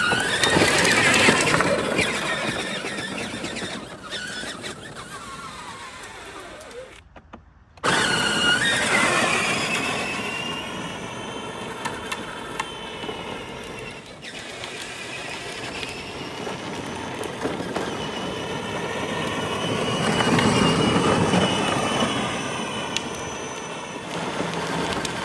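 A converted Power Wheels ride-on toy car fitted with an aftermarket conversion kit and gearbox whines as it drives, cuts out abruptly, then winds back up in a loud, steady jet-like whir that rises and falls.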